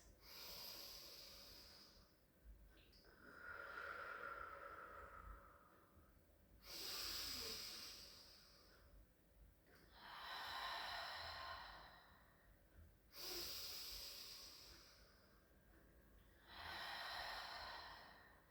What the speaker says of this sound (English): just take 6 deep in-out breaths